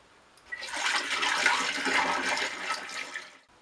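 Pressed apple mash liquid pours into a plastic bottle with a steady rushing, splashing stream that starts abruptly, holds for about three seconds, then stops.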